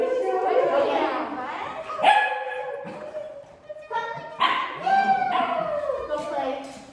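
A puppy barks and yips in short, high bursts during a play training session, close by, with whimpering notes between barks and people talking over and around it.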